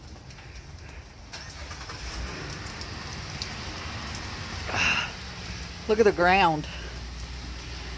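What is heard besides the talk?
hail falling on the ground and car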